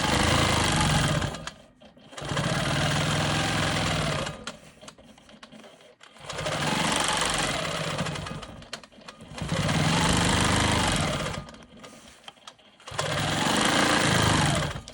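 A sewing machine stitches straight quilting lines across a star cross block in four loud bursts of steady mechanical whirring, each lasting about two seconds and separated by short quiet pauses.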